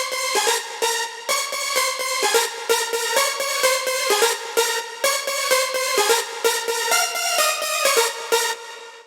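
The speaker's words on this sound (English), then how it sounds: "I grabbed another Nexus and I was searching for this preset right here called Lead Dynamite" Nexus synth lead preset Lead Dynamite plays a bright, buzzy melodic line of quick staccato notes in a repeating pattern, upfront and alone with no talking.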